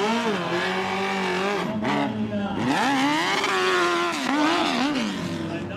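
A big-engined Harley-Davidson hill climb motorcycle, a cross between a sport bike and a dirt bike, revs hard and steadily throughout, its pitch rising and falling as it works over moguls, loud and close.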